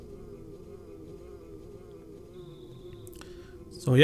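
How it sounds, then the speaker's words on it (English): A bee buzzing in the Earthbound video game, a steady low drone that stays faint and continuous under a background tone, ending in a louder brief burst of sound. "So for some reason we accompany a bee to go do whatever."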